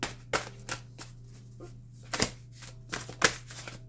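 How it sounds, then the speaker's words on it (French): Tarot cards being shuffled by hand before a five-card spread, giving a series of sharp riffling bursts at irregular intervals over a faint steady hum, close and fairly quiet. "C'est parti, on va tirer 5 cartes."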